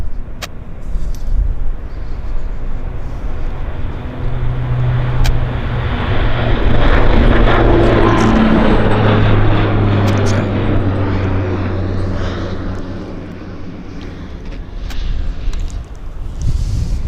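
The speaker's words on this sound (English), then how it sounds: "So we got our Q400 on the roll." A Q400 turboprop on its takeoff roll at Vancouver Airport gives a loud, steady engine roar with a humming propeller drone. It swells through the middle and then eases slightly as it continues.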